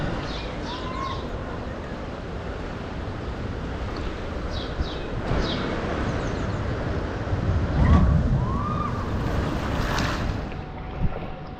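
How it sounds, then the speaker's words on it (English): Gentle water sloshing and churning along the lazy river at Aquashow Park in Portugal, a steady wash with wind buffeting the microphone, a swell of splashing near the middle and faint bird calls. "Now this is a very lazy river by the looks of it"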